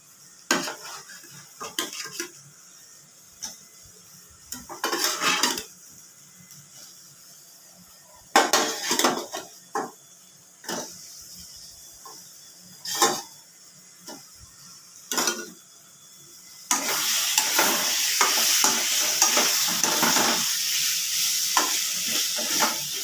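Potatoes are stirred with spices in a pan for an egg curry: intermittent metal spatula clanks and scrapes separated by quiet gaps, then a continuous loud sizzle near the end, close, no talk.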